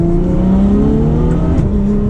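A Ferrari F12 V12 pulls hard through turns on a road drive, loud steady engine drone rising in pitch as it accelerates from inside the car, no talk.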